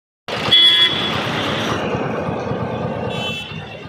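A toy jeep sounds its horn: a sudden loud electronic toot followed by a sustained honking tone with engine-like noise that fades out near the end, no voices.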